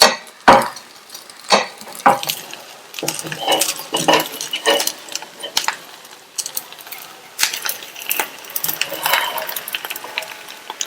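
Dosa being cut and folded on a pan, filled with potato masala and onion-tomato masala: sharp metallic scrapes and clinks of a spatula against the pan, irregular and close, with soft pressing sounds between.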